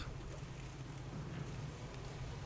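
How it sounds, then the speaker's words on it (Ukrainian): Steady, blustery wind roars continuously across the microphone, a low rumbling gust with no pauses. "О, чуєте який вітер?"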